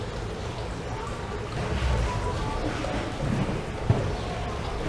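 Water runs steadily through a leaf-shaped fountain, a continuous broadband splashing and trickling with slightly uneven, jumpy flow and one brief louder splash near the end.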